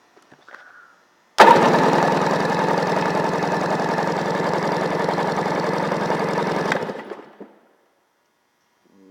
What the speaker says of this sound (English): We're going to do an engine compression test.